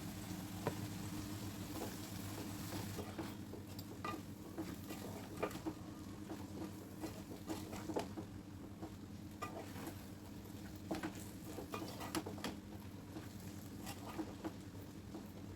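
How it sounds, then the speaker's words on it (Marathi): Grated potato stirred in a pan over medium heat makes a continuous low sizzle with frequent light scraping and tapping strokes throughout. "गॅस आता मीडियम करूया आपण आणि हे हलवून घेऊया व्यवस्थित"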